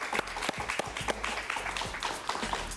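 Studio audience applauding after an interview with Cuban exile leader Ramón Saúl Sánchez, a short burst of clapping with distinct individual claps over a low background hum.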